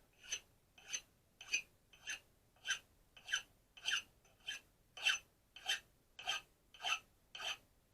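A hand file rasps the coating off a metal piece in steady back-and-forth strokes, about thirteen evenly spaced scrapes over several seconds, close and quiet with nothing else heard.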